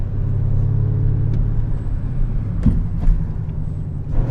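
An Audi RS7 accelerates hard on the German Autobahn, its engine and road roar rising loud and close in one continuous, steady surge with no talk.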